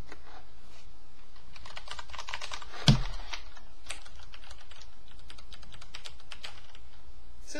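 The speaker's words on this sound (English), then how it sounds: "It says mechanical keyboard" Rapid typing on a mechanical computer keyboard for a new 2013 PC, with dense clicky keystrokes heard up close and one louder thump partway through, and no talking.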